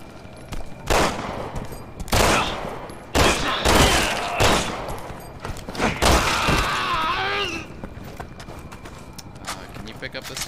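Rapid gunfire from Resident Evil 6, several sharp bursts of shots in quick succession over a few seconds, loud and close, with in-game voices and action noise around them.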